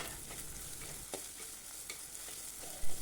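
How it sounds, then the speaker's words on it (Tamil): Shallots and ginger sautéing in hot oil for a Kerala-style puli inji, a steady soft sizzle with occasional stirring scrapes, close and fairly quiet, no voices. "எண்ணெயில் நல்லா வதங்கட்டும்."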